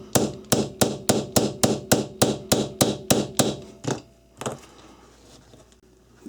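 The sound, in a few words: hammer striking punch into 1911 pistol frame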